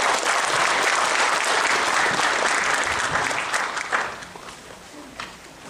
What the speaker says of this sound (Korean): 김일섭 동지를 힘찬 박수로 맞이해 주십시오